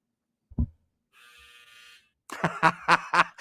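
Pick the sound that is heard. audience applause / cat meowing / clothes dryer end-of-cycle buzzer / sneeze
clothes dryer end-of-cycle buzzer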